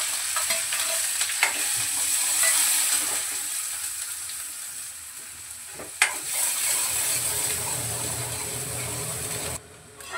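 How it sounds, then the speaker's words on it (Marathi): Chopped onion and cumin seeds sauté in hot oil for a chickpea-leaf vegetable dish, giving a steady, close sizzle with scraping stirs and one sharp clack about midway. "हा कांदा जरासा परतून घेते"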